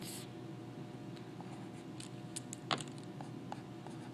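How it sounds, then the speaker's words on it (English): A pen or pencil writes numbers by hand on paper, making faint, intermittent scratches and light taps in an otherwise quiet room. "So I'm just going to write it like it's written."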